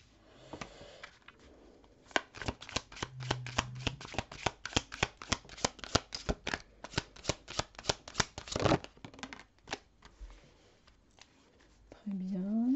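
A deck of tarot cards is shuffled in a long run of crisp, rapid riffling and slapping bursts, close and fairly quiet, then cards are drawn, with a brief voice at the end.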